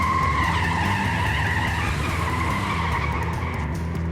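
A truck sliding to a hard stop, tires skidding loudly in one continuous harsh squeal and scrape at close range for several seconds, with no talking over it.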